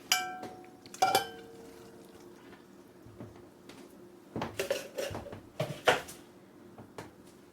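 Cooked broccoli tipped into a casserole dish for a keto bacon broccoli casserole, heard as a few clattering clinks and knocks of dish and utensils at scattered moments, fairly close, with no talking.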